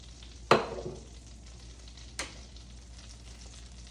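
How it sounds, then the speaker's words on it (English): Butter sizzles in a hot pan before a steak goes in: a sharp burst of frying hiss, then a second briefer crackle, over a quiet low background. "so that butter is sizzling"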